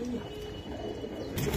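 Indian kaldam pigeons at a pigeon market give soft, low cooing calls close by over a murmur of background bustle.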